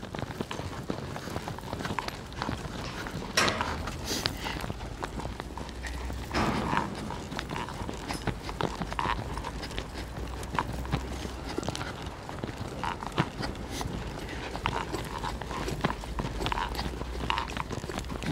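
Horse hooves clip-clop in a steady, continuous trot on a training ground, with the horse held in neck flexion and face turned inward, moderately near and alone without talk throughout.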